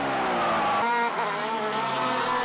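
Nissan GT-R and Honda NSX race cars at Suzuka during a 2003 Super GT race, engines roaring loudly at high revs with a sharp pitch change as the cars pass, and no talk.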